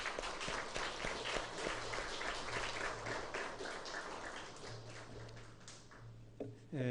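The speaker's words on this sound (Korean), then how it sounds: "우리 성가대 친구들을 위해서 여러분 격려의 박수 한번 하시겠습니다" A church chapel congregation applauds the choir, a dense wash of many hands clapping at steady volume, with a low hum underneath and a brief voice-like sound near the end.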